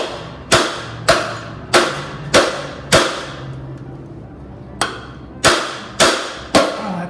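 Nine sharp metallic hammer blows strike the back of a crusty, seized flywheel on a barn-find Baja Warrior engine, loud and close with ringing decays and a short pause in the middle of the series.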